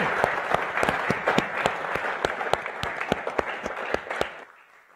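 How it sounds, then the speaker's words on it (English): Audience applause for lecture panel members, a short burst of steady clapping from a moderate crowd in a lecture hall that tapers off and fades out near the end. "give our panel members and Loren a big round of applause"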